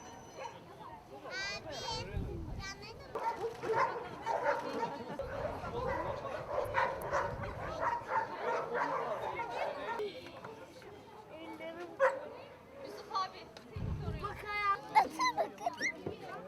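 A dog yips and gives short barks and whimpers at intervals, close by, mixed in with a person talking to it throughout and some scuffling movement.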